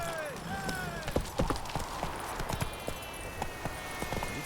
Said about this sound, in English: Look at that horse barrel ahead.